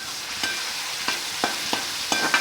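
Ground tomatoes frying in a little oil with cumin in a kadhai, a steady sizzle broken by about six scraping strokes of a spoon at regular intervals.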